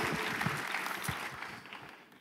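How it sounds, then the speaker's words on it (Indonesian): Church congregation applauding the worship leaders, singers and musicians at an evening prayer service, a dense wash of clapping that holds steady for a couple of seconds and then thins slightly as it tapers. "Boleh tepuk tangannya di extend buat para worship leader"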